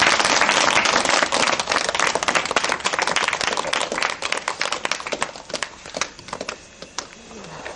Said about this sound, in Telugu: మనందరం చప్పట్లతో ఆహ్వానం.